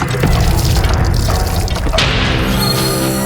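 Water runs steadily from a tap as someone washes their hands and face at home, a continuous splashing hiss with small drips and bumps throughout.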